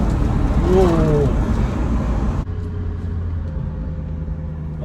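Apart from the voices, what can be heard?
BMW M3 E93 V8 engine downshifting from third to second gear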